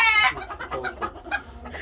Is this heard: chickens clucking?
yes